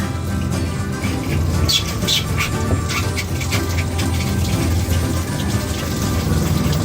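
Water running and draining by hand into the gray water tanks of an RV, a steady broadband wash with faint trickling and some low rumble, continuous throughout and fairly close.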